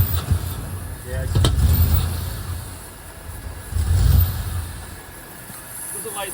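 A Range Rover P38 engine, sputtering on poor fuel, runs and revs in two rising surges before settling, loud and close, with people talking over it.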